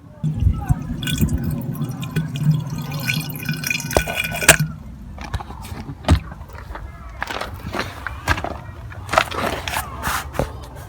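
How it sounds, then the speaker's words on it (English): Water is poured into the cooling system of a VW T4 van during a thermostat replacement, a trickling fill followed by scattered drips and small knocks, close by and moderately loud. "I'm just going to give it a test first by pouring a bit of water into the system"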